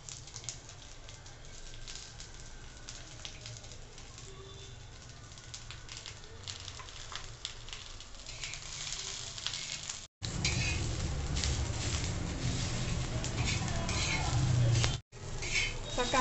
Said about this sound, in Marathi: कांदा छान खमंग भाजून घ्यायचा।